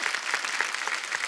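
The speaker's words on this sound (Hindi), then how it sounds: "जोरदार तालियां।" Loud applause from a studio audience at a Kapil Sharma Show comedy taping, a steady dense patter of many clapping hands filling the whole short moment with no speech over it.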